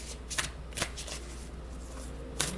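A deck of Work Your Light oracle cards is shuffled close by, soft riffling swishes with a few sharper snaps, quiet and without talk.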